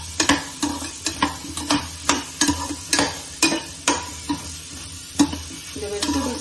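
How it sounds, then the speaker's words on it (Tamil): Vegetables and garlic sautéing in oil for South Indian sambar, a steady close sizzle broken by regular scraping stirs of a spoon against the pan, roughly two per second, with no talking. "இதெல்லாம் வதங்கிட்டு இருக்கும் போதே பூண்டும் ஆட் பண்ணுறேன்"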